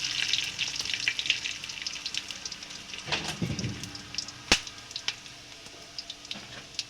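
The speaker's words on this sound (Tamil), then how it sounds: "நல்லா வறுப்போம்." Ingredients dry roasting in a pan for a medicinal herb recipe, with a light crackle and sizzle broken by occasional scrapes and a sharp clack.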